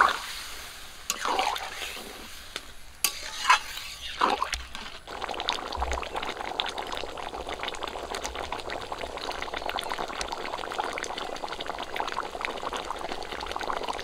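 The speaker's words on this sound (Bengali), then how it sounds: "রস করার জন্য জল দিয়ে দেবো।" Water pours into a pot of mutton kosha, the spiced mutton dish, cooking in a Bengali village kitchen. A few clattering knocks come first, then a steady close, rushing, bubbling wash of liquid runs to the end, with no talk.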